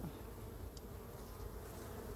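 Faint, steady buzzing of many honeybees at a hive, a soft continuous drone with no voices.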